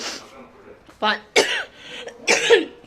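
Several harsh coughs from a woman with a persistent cough come close to the listener, three distinct bursts separated by short pauses, with a voice briefly audible between them.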